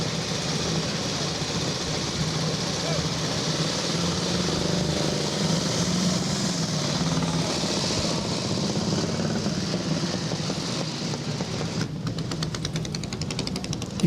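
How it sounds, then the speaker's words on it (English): Velocette KTT vintage motorcycle exhaust running steadily after a bump start at a vintage club run, a loud continuous engine drone with no pause, joined near the end by rapid ticking bursts. "You can tell the Velo started with a bump start, just for the noise of the exhaust."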